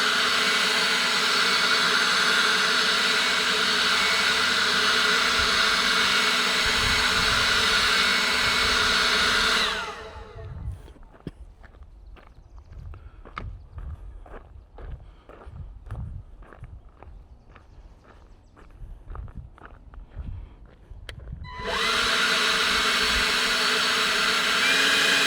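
E-Works cordless leaf blower roars loudly and steadily close by, cuts out abruptly into a stretch of scattered crunching and footsteps on gravel, then starts up again at full blast.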